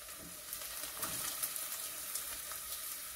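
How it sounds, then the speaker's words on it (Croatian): Diced carrot and parsley frying in a pot for fish soup give a steady, moderate sizzle with faint crackles throughout, no voices. "Nakon 2 minuta prženja dodajem šargarepu i peršun."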